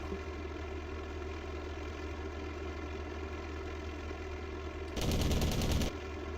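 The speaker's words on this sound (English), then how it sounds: "That AA gun's back between the armor and the wall again." Anti-aircraft gunfire and aircraft in a World War II flight combat video game: a steady droning aircraft engine throughout, with a loud, dense burst of rapid gunfire near the end lasting about a second.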